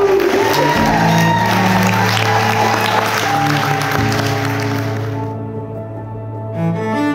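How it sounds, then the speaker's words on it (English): Wedding guests at Lartington Hall break into loud, sustained applause mixed with cheers and whoops. The crowd noise is close and dense, then fades slightly toward the end. "if I could start with a big cheer and a round of applause for my wife."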